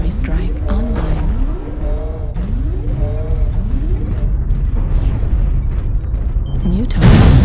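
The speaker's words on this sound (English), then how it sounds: "Artillery strike online." Artillery strike explosions in a mech combat video game, with deep booming blasts and rumbling impacts over constant battle noise and rising electronic whoops, ending in a loud burst.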